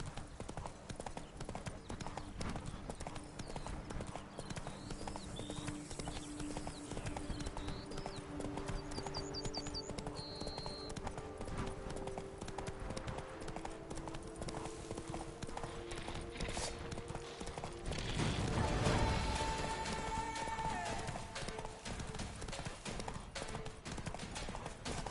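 Geralt's horse Roach gallops in The Witcher 3 game, with a steady, rapid clip-clop of hooves running throughout and a louder swell of movement partway through over ambient game sound.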